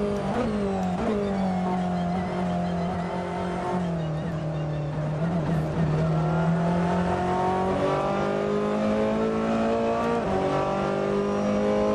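Race car engine screaming at speed down the Mulsanne straight toward a chicane in the Assetto Corsa racing game, a loud, steady high-revving drone with shifting pitch sustained throughout, other cars faintly audible nearby.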